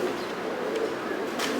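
White Pakistani pigeons coo softly in a low, murmuring stream, faint and continuous at close range with no voices.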